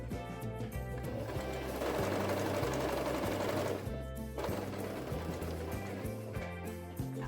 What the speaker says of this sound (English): I'm sewing the zipper to the second piece of the pillow